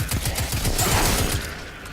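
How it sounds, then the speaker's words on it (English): A grenade launcher firing in Destiny 2, a rapid run of punchy low thumps and blasts packed close together, loud and up front, then trailing off into a softer wash of noise. "No, it's a grenade launcher."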